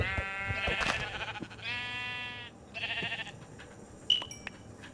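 Minecraft sheep bleat three times in quick succession, clear and close, the game's wavering bleat standing alone with faint beeps after it.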